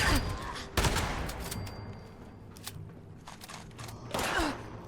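A shotgun fires in the Fallout 76 game, sharp loud blasts spaced irregularly across the moment, with mechanical clicks and rustling between shots.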